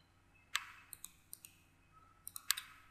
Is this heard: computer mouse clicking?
yes